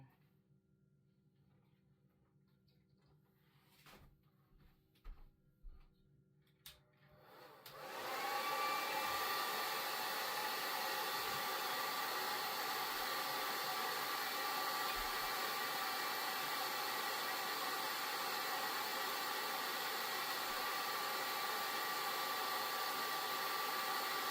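A hair dryer blows on ponytails on a mannequin head, clicking on after a few seconds of quiet handling noises and then running as a loud, steady whooshing roar, with no one speaking.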